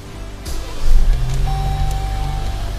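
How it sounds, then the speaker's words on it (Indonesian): A 2023 Jeep Grand Cherokee Limited starting up, with a short whir of the starter followed by a low, steady idle hum, close and fairly loud, with faint electronic chimes on top. "gue akan coba nyalain dari Jeep Grand Cherokee generasi terbaru ini"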